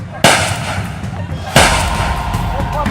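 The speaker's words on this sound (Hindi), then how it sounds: "हथियार के साथ फौरन खेत पर पहुंचे और फायरिंग शुरू कर दी" Two loud, sharp gunshots from country-made pistols and rifles ring out about a second apart in an open field in a village clash, each followed by a rumbling echo.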